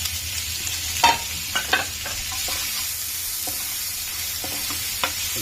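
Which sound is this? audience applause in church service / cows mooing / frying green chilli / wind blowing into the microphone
frying green chilli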